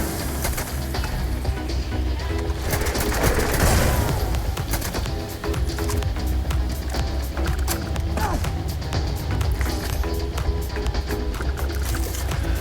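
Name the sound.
Despondent Assassin rifle firing through the scope, from video game Starfield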